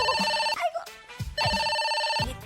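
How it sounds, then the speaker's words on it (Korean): A telephone ringing indoors, repeated bright electronic ring bursts separated by short gaps, loud and close, with brief background sounds between the rings. "누구 전화야?"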